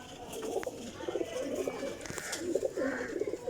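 Ferozpuri pigeons with netted plumage coo together, a dense, continuous bubbling of overlapping coos from a nearby flock.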